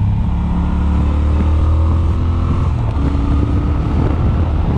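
A Triumph Speed Twin with its 1200cc engine cruises along an open road, a continuous loud drone of engine mixed with heavy wind rush, no talking.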